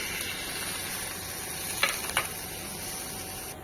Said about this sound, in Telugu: కొన్ని టమాటా, ఉల్లిగడ్డ, కాజు అన్నీ ఇవి ఆయిల్లో ఫ్రై చేసుకోవాలి